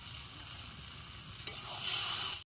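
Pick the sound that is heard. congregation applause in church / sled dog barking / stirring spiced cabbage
stirring spiced cabbage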